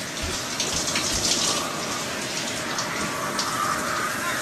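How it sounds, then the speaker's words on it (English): Shower water runs down in a steady, dense hiss like heavy rain, constant and close, alone with no talk. "When the water is coming down, that's the water that's going to get on your body and then make you wet."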